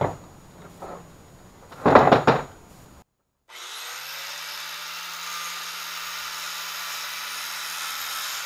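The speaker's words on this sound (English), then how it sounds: "So first step is we're going to flap disc this a little bit." A few knocks and scrapes come first as a Ford F100 driveshaft is handled in a vise, then a flap disc grinder spins up into a loud, steady abrasive whine that runs to the end.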